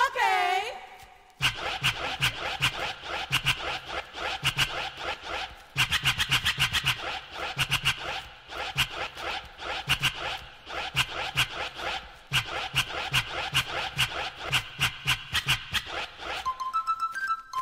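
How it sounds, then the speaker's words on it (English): Hip-hop DJ scratching a record over a bass-heavy electro beat with a dub-style mix, sharp rhythmic scratch strokes cutting in and out above the steady loud music throughout. "Let's scratch."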